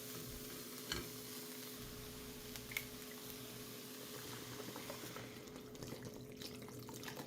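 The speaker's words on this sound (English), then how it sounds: "Just going to bloom all these spices for a minute" Spices blooming in hot oil in a soup pot give a steady, soft sizzle with faint stirring scrapes, close and fairly quiet, with no one talking.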